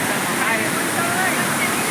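Water flows at a waterfall in a steady, dense, loud rush of broadband noise that holds constant throughout, close by and without breaks.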